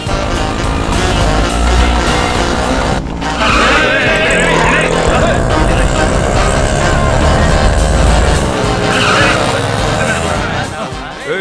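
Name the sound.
auto rickshaw engine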